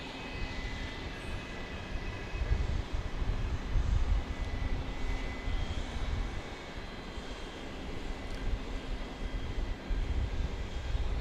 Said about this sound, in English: Vista America coming in from Laconia, a Bombardier Challenger 300